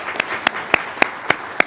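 Scattered audience clapping at a government open-source panel, with sharp individual claps landing roughly every quarter second over a soft bed of steady applause.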